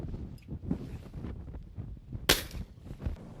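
A shotgun fires once at an outdoor skeet shooting range, a single sharp, loud blast partway through with wind noise and faint background rumble around it.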